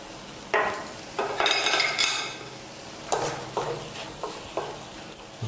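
Salt and turmeric being stirred into a cooking mixture for homemade MSG-free bouillon, a spoon scraping and clinking against a pan in several separate strokes over a low sizzle, with no talking.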